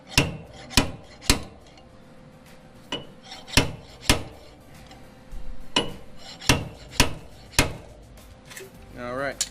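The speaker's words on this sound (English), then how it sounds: "You put this little stud puller on it and, you know, work out your sheet metal" A stud puller works out a sheet metal dent during body work, giving about a dozen sharp, loud metallic clacks in an irregular rhythm over a faint background hum.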